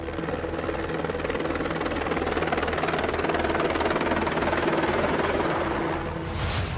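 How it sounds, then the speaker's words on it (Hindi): An army helicopter fighting a forest fire in the Sariska jungle makes a loud, continuous rotor thrum and engine roar. It holds steady overhead throughout. "कुछ इस तरीके से सेना के हेलीकॉप्टर के जरिए जंगल में लगी आग को बुझाने की कवायद चल रही है।"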